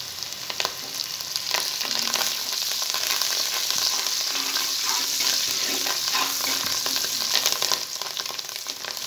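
Fresh coriander and mint hit the hot chicken biryani pot, giving a continuous close sizzle and crackle with scattered sharp pops that stays steady and even throughout. No voices are heard.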